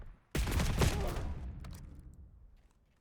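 A burst of rifle gunfire in a competitive multiplayer shooter match, a loud sustained crack that fades into a trailing echo, followed by faint distant shots.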